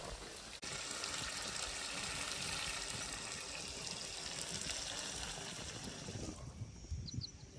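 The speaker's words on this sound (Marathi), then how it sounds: "पाणी ओतून घेते आता" Water poured into a simmering fish curry in a pot, a steady broad gushing wash that runs nearly unbroken and fairly close, with no talk over it.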